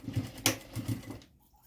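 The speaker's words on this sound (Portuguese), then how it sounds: "Quando passar em cima dos dentinhos do zíper, gira o volante da tua máquina manualmente, pra evitar de quebrar a agulha" A home sewing machine stitches slowly over metal zipper teeth while the handwheel is turned by hand, making a few soft, uneven clicks and thumps close up, with a sharper tick partway through and then quiet.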